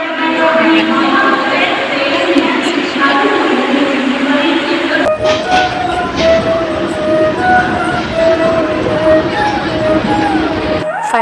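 A train rumbles and screeches as it pulls into Chembur station, with heavy rolling noise and background voices throughout.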